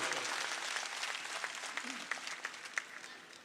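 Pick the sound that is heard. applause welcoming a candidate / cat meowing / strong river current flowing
applause welcoming a candidate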